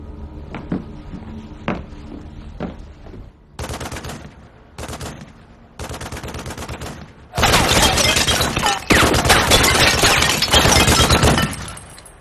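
Gunfire in a sci-fi movie shooting scene: sparse sharp shots at first, then short rapid bursts, and finally loud sustained volleys of automatic fire, close and with no talking.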